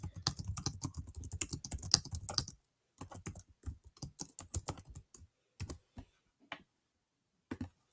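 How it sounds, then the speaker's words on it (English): Rapid clicking keystrokes on a computer keyboard, a dense burst of close typing followed by scattered, slower key taps with short pauses between them, no talking. "I type my question in here."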